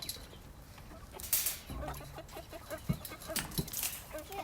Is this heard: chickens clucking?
yes